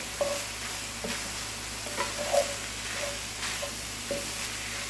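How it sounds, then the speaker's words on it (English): Onions fry alongside drained ground meat in a skillet for skillet lasagna: a soft, continuous sizzle with occasional spoon scrapes and taps as the mixture is stirred, fairly quiet and with no voices. "I'm going to add my onions. Stir this around. Let this cook."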